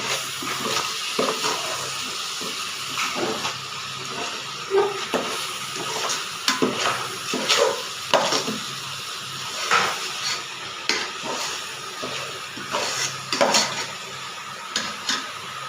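A mushroom gravy masala is stirred in a pan, with a spoon scraping and clinking against the metal over a low sizzle. The clattering strokes are irregular and close, with no voices.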